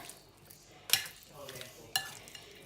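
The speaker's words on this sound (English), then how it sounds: "I'm just going to be adding in some fat-free yogurt. There we go. So we're just going to mix" Fat-free yogurt being stirred into an Indian curry in a pan: soft scraping and mixing with two sharp utensil clinks against the pot, close and fairly quiet.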